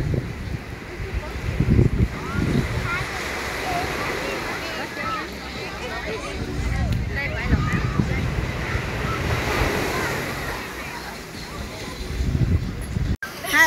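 Ocean waves surge and wash in repeatedly at Cancun beach, with wind buffeting the microphone, while family voices talk over the surf.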